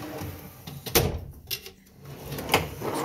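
Snap-on toolbox drawers sliding and clunking open and shut, several sharp metallic knocks and rolling slides close by, without speech.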